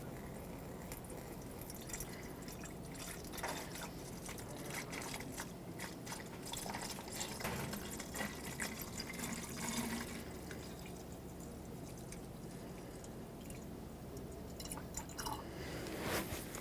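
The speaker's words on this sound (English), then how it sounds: "we're going to fill this with the manufacturer's recommended coolant until we reach the full line" Coolant being poured into the coolant reservoir of a 2006-2010 Hyundai Sonata, a steady liquid trickle with soft drips and gurgles running close and fairly quiet for the whole stretch, no one speaking.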